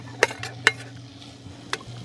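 Sweet potato and tomato with spices go into a cooking pot over a camp stove in the UAE mountains, with a few sharp clacks of food and utensils against the pot over a steady low hum.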